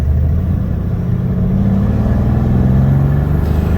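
A turbocharged 2020 BMW M340i running a PT6466 turbo on E85 accelerates hard in a 50 mph roll race against a modified Mercedes C63 AMG, its engine droning loud and steady throughout with a rising tone.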